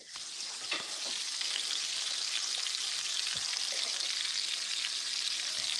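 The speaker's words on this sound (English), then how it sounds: "It sounds like you frying." Onions and mushrooms sizzle steadily in a hot pan, a dense, even frying hiss with occasional pops and crackles, fairly close and alone without talk.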